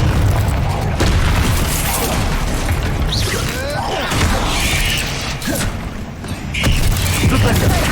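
Confringo spell blasts in Hogwarts Legacy: dense, loud combat with repeated booming impacts, crackling bursts and whooshing magic overlapping continuously, with brief voice-like sounds mixed into the din.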